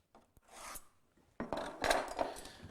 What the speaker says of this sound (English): I'll draw a line across all 4 boards